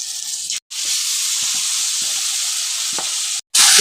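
Marinated chicken frying in a pan, a steady loud sizzle that runs throughout with faint stirring scrapes, broken by two brief silent gaps.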